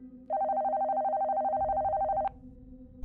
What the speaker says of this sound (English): But that was when the phone began ringing.